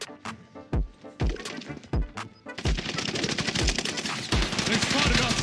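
Gunfire in Call of Duty Warzone: sharp separate shots at first, then dense rapid automatic bursts, loud and close, with faint voices in the mix.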